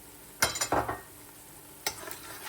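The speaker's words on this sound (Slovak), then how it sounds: "Nechám ju asi takú pol minútu orestovať." Onion and garlic dusted with sweet paprika sautéing in a pan under a faint background sizzle, broken by two bursts of scraping stirring, the first longer and doubled, the second short, close and quiet.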